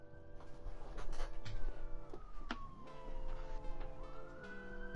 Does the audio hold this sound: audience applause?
no